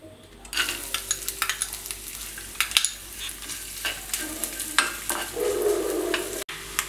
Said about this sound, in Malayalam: ആദ്യമായി സ്റ്റൗ ഓണാക്കി ചെറിയ പാൻ വെച്ച് അതിൽ നെയ്യ് ഒഴിച്ച് തേങ്ങാക്കൊത്ത് വറുത്തെടുക്കണം